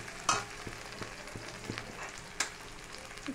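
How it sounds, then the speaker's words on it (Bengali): Spices frying with raw green banana and potato for a fish curry, a low steady sizzle with sparse spatula scrapes and taps against the pan, close and moderately quiet, no voices. "এই কাঁচকলা আলু দিয়ে মশলা কষানো হচ্ছে"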